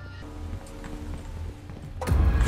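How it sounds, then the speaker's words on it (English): Goats in the horror video game Devour run past with quick, light hoof clatter that builds into a louder, nearer burst of rapid thumping at the end. "Boys, there are some goats here."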